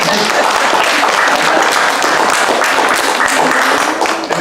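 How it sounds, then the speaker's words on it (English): Guests at a wedding reception applauding, a loud, dense burst of clapping from a nearby crowd that carries on throughout, with a few faint voices mixed in. "Give him a round of applause as well."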